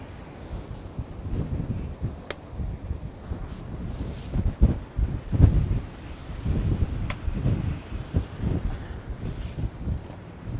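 Heavy wind buffeting a microphone outdoors at night during a lake effect snowstorm in Hamburg, New York, making a continuous low rumble with gusty surges and occasional sharp crackles.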